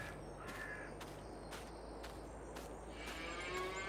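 Cows low now and then on a farm in the Farming Simulator 22 video game, with faint, drawn-out moos over a steady ambient hum and a series of soft regular ticks.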